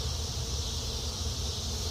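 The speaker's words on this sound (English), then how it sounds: "So now we're going to shake some bees in here." A dense, steady buzz of many honeybees fills the air, continuous and close, with no voices, as bees are shaken from brood frames while splitting a hive in summer.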